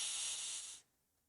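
A voice imitates a cat's hiss with a sustained, breathy hiss that cuts off abruptly, close and fairly quiet.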